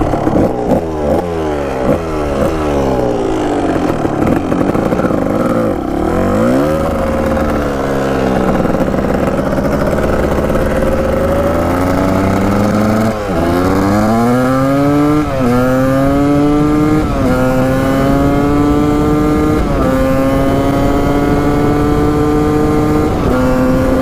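Dirt bike engine revving hard and shifting up through gears while riding trails, loud and close, with rising and falling pitch sweeps and no talking.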